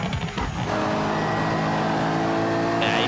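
A rallycross race car engine in the video game BeamNG at RedRock Raceway drones at a steady high pitch, a sustained mechanical whine that holds without pause and swells slightly at the end.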